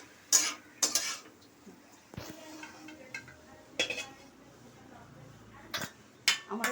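Bottle gourd leaves with poppy seed being stirred in a pan, scattered metallic clinks and scrapes of a spoon against the pan, several sharp knocks between softer stirring.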